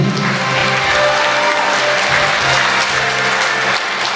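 A concert hall audience at a Khakass song awards ceremony bursts into sustained, even applause, with a faint musical tone lingering underneath the thick wash of clapping.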